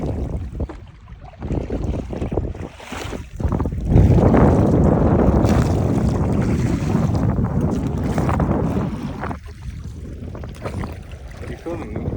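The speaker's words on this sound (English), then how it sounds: "It's just a little bit windy." Wind buffets a small rowboat out on the water, a loud rumbling gusting roar across the microphone that swells and eases throughout, with faint voices now and then underneath.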